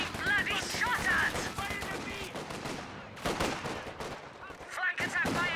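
Gunfire in a Company of Heroes 2 battle: rapid bursts of small-arms and machine-gun shots with heavier blasts crack out repeatedly, loud and continuous, under a busy mix of battle noise.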